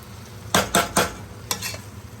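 Rice being cooked for beer chicken and rice (arroz con pollo) is turned in a pan with a few sharp, scraping stirs in quick bursts over a soft sizzle.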